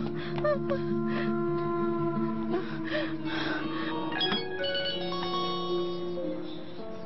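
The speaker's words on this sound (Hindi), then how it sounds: "इस वक्त घर से फोन आ रहा है।" A phone ringtone plays a repeating electronic melody, fairly loud and close, continuing throughout with faint background sounds.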